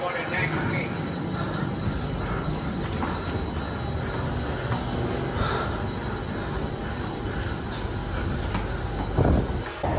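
A train rumbles past near Marina Bay, Singapore, with continuous broadband roar and faint rhythmic clatter, fairly loud throughout, swelling briefly near the end.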